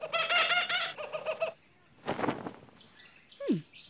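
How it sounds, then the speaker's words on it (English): A cartoon kookaburra gives a run of harmonic, warbling calls followed by a brief rustle of flapping and a sharp descending squawk, heard close and alone with no talk. "Peculiar bird."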